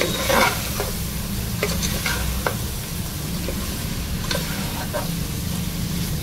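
Salt and chili powder fry in a pan for mango mutton, a steady low sizzle with intermittent scraping and clinking of a spoon stirring against the pan, no talking.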